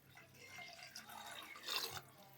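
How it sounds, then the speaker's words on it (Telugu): Water poured into a pot of soft-cooked lentils (pappu) gives a faint, steady trickle that swells into a brief, louder splash near the end. "ఇప్పుడు నీళ్ళు వేసుకుందాం."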